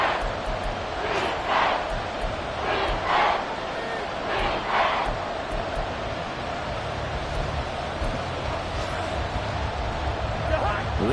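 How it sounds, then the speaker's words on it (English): A stadium crowd in Madden 24 roars at a goal-line play, a steady broad wash of cheering with swelling bursts, while a commentator talks over it. "This crowd doing all they can."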